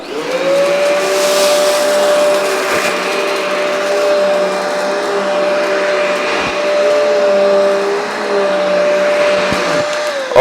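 A Riccar vacuum cleaner runs steadily on carpet with both switches on, a loud sustained motor whine and airflow roar holding an even pitch with slight wavering throughout, close and alone.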